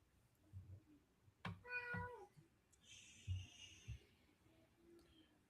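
A house cat gives one clear drawn-out meow close by, with a few soft thumps and faint shuffling around it in an otherwise quiet room.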